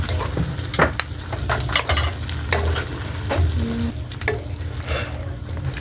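Native chicken adobo is stirred in a hot pan, a spoon scraping and clacking against the metal over a steady sizzle and fry, with a few sharper knocks spread through.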